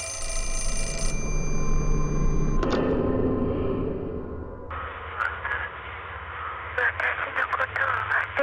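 A telephone rings in the survival horror game Fatal Frame: Mask of the Lunar Eclipse, a bright electronic ring for the first seconds that gives way to low ambient rumble and then shifting eerie tones.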